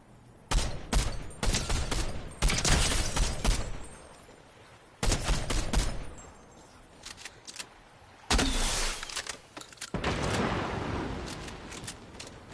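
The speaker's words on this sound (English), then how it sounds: "they're fireworks" Fireworks going off in the Fortnite video game, a series of loud crackling bursts in several clusters, each a rapid volley of pops separated by brief lulls.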